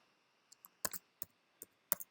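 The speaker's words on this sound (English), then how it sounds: "I'm going to type this in." Keys on a computer keyboard are typed quietly, giving sparse, irregular sharp clicks, about eight taps in a couple of seconds, heard alone in a silent room.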